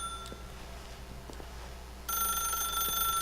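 An office telephone rings in the video game The Stanley Parable, repeated bell-like trills over a quiet room tone, with a brighter, louder electronic tone joining partway through.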